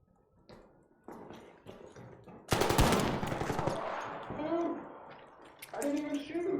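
Video game gunfire: a sudden loud burst of rapid automatic shots breaks in after quieter sounds and rattles on for a few seconds, with voices talking around it.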